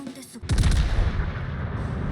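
Naval gunfire in the World of Warships video game, one heavy boom breaking out after a brief hush, then a rumbling tail of continued blasts, with a voice briefly present.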